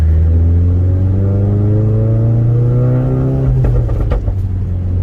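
A 2016 Ford Focus RS pulls hard in second gear, its engine drone rising steadily as heard from inside the cabin, then dips briefly as it shifts up near the end.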